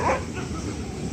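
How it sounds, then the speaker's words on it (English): Several aggressive farm guard dogs bark and yip at a distance, quiet and muffled within a broad, noisy outdoor wash, with a brief louder burst at the start. "here I have a bunch of aggressive dogs guarding their farm"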